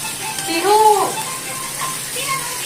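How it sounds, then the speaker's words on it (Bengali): Bay leaves, onion and tomato fry in hot oil in a kadai, giving a steady soft sizzle with a brief voice rising over it near the start. "তেজপাতা আর টমেটো দিয়ে দিয়েছি। এটা একটু ভাজবো ভালো করে"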